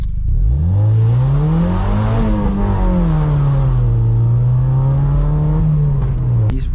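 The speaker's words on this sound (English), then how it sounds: "Listen how savage this car is with the roof down and everything." A Mazda MX-5 2.0L roadster engine, roof down, revs up loudly and steadily, pitch climbing through the gears, close and continuous for several seconds.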